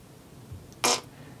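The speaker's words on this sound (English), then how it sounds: "This one is the Super Shorts Ripper." A short synthetic fart effect, the Super Shorts Ripper, played from a Tesla car's novelty sound mode: a single brief, sharp burst of raspy noise, close and fairly loud against a quiet background.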